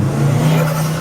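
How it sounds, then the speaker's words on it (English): A Subaru WRX, a hooligan-style performance car, accelerates past close by. Its engine gives a loud, steady low drone for about a second, with no voices over it. "That's a nice Subaru WRX"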